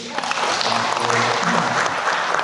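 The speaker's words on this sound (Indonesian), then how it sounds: "Boleh tepuk tangan ini." Dense applause from a sizable crowd at an official creative-economy event in Samarinda, Indonesia fills the space, steady and sustained with no pauses.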